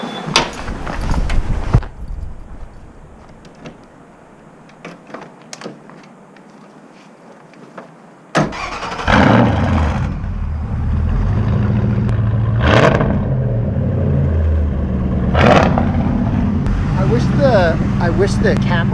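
A Ford Crown Victoria with a five-speed swap cranks with a short starter whir, then its engine catches loud and close and idles with a few sharp revs, while people talk over it.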